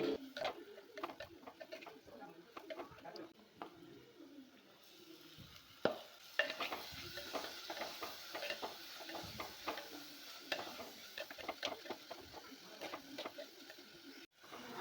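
Garlic and shallots fry in a pan for a Kerala-style fish curry, giving a soft, steady sizzle broken by frequent clinks and scrapes of stirring throughout, with faint birdsong in the background.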